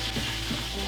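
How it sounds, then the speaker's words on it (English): Butterflied lamb leg searing on a grill, a steady close sizzle that holds at an even level throughout with no talk over it. "As the lamb leg sears"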